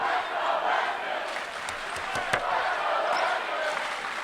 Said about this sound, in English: Crowd getting into it now, as you can hear.